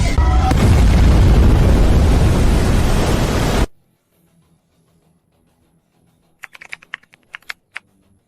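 A sci-fi high-energy laser cannon fires in one loud, sustained roaring blast that runs for several seconds, cuts off abruptly, and leaves near silence broken by a few faint crackles.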